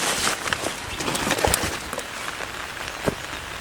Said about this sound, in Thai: ในขณะนี้นะครับทุกคนแดดออกนะแต่ฝนก็ตก